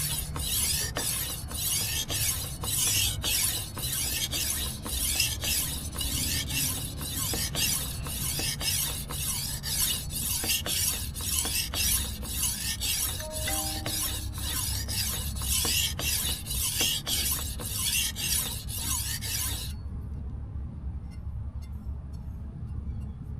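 A kitchen knife honed by hand on a whetstone, a rapid regular train of close, gritty scraping strokes back and forth that stops abruptly near the end, leaving near-silence.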